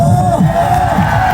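A large audience at a lavish outdoor music concert in Vavuniya cheers and shouts loudly over amplified music, with steady crowd roar and whoops throughout.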